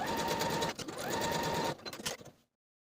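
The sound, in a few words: sewing machine stitching back bodice seam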